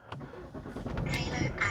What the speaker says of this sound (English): I'll fire up the engine again.